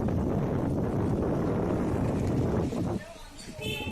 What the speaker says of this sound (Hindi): तेज हवाओं के साथ बारिश से तापमान में काफी गिरावट दर्ज की गई है।